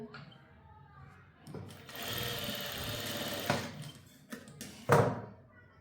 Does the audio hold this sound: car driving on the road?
no